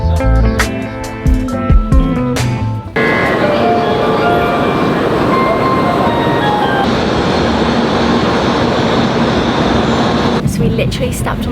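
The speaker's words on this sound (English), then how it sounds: "Literally stepped on the train 30 seconds ago and we're already on the move" Inside a moving Japanese bullet train, a steady broadband rush and rumble fills the cabin after a few seconds of clattering and bumps near the start.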